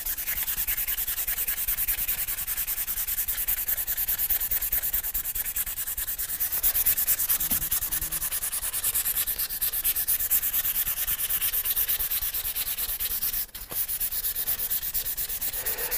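Sandpaper rubbed by hand over the wood of a Hofner Galaxie guitar during restoration, giving a continuous close, even scratchy hiss of rapid back-and-forth strokes with one brief pause near the end.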